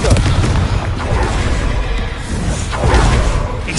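Confringo blasting spell in a Harry Potter game erupts as a loud, close, dense explosive burst that fills the whole short moment with rumbling, crackling noise.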